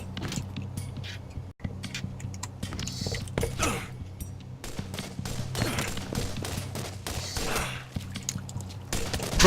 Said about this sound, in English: Burst fire sniping works if you can control your own bursts.